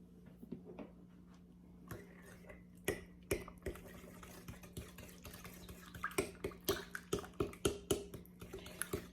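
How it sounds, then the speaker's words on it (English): Red velvet cake batter stirred by hand with a small stirrer in a bowl, giving faint irregular clinks and taps that grow busier and more rhythmic over a low steady hum, with no talking. "for right now, I'm just going to be stirring it with my little stirrer here before I actually use my mixer"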